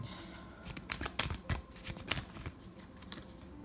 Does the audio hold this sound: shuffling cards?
yes